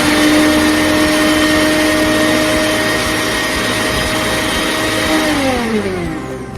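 A MecTURING MG800 GRAIN smart mixer grinder runs in normal grinding mode with a loud, steady motor whine close by, then spins down near the end.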